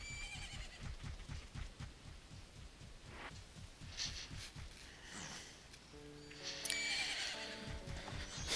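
Epona the horse from the video game Majora's Mask whinnies loudly over a steady rhythmic clip-clop of hooves, with a brighter harmonic neigh and faint musical tones near the end; no one speaks.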